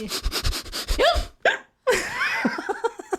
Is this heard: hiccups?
yes